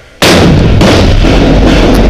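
A grenade goes off during an armed military raid in Mexico. One sudden, very loud close blast breaks a quiet moment, then a dense roaring wash of sound carries on to the end with no talking.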